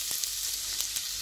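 A cup of chopped onion dropped into hot white oil in a frying pan, hissing in a loud, continuous sizzle that is close and unbroken, with no voices.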